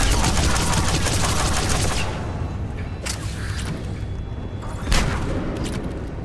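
Mass Effect 3 gunfire rattles in a loud dense stream, then thins to a few sharp separate shots and one heavier thump.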